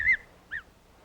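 Two high, short peeps from a newly hatching gosling, the first louder and the second softer about half a second later, close by against a quiet background.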